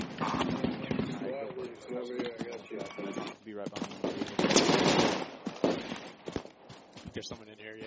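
A grenade goes off in the video game Insurgency with a sharp, cracking burst amid scattered pops and footsteps, while players talk over it.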